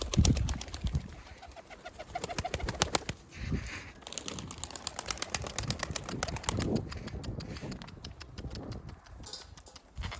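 Pigeons coo and flutter nearby amid steady rhythmic tapping and shuffling, a busy, close outdoor scene with no talking.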